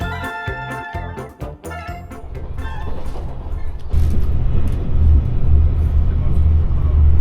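A bus travels through Japan, its engine rumble and road noise growing heavier partway through, with a deep low drone filling the cabin and people talking over it.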